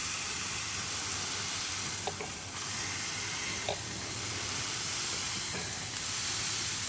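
Smash burger patties searing on a hot griddle: a loud, constant hiss and sizzle runs throughout, close by, with a few faint clinks of a spatula and no speech.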